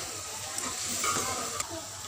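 Chicken and tinda in a pan are stirred as they fry, giving a loud steady sizzle close up with a couple of scraping stirs mixed in and no speech.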